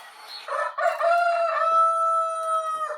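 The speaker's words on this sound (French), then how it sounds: "Cocorico!" A rooster's cock-a-doodle-doo, one long drawn-out crow rising and holding a bright tone for a few seconds, close and fairly loud with no other sounds around it.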